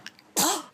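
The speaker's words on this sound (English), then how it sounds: "Dang sneezes." A baby girl lets out a single sharp, breathy sneeze, close and sudden after a brief quiet moment with faint small sounds.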